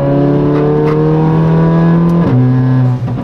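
A Mercedes CLA 45 AMG with an Armytrix exhaust revs loudly up close, a sustained droning engine note that drops in pitch partway through and then dips briefly near the end.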